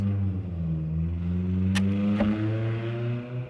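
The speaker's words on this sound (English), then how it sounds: "Loud car." A loud car passes nearby with a steady engine drone and a brief rising rush midway, alone without talk.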